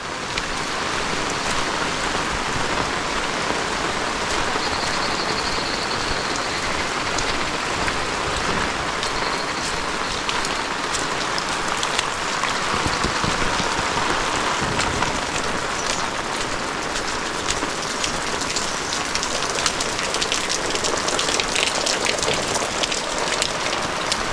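Heavy monsoon rain pours down steadily in a village at dusk in Sangameshwar, a dense, unbroken hiss of drops on surfaces lasting the whole stretch with no voices.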